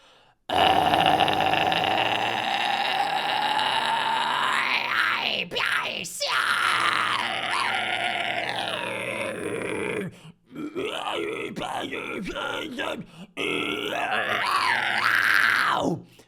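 A harsh, gritty metal scream held close to the mic, rough and growling with a few short breaks for breath, loud and sustained.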